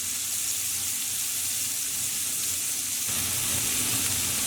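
Danish frikadeller meatballs fry in a hot pan with a steady, close sizzle that holds without pause throughout, growing slightly denser toward the end, with no voices.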